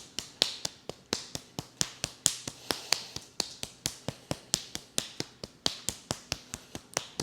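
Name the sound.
tapping the backs of the hands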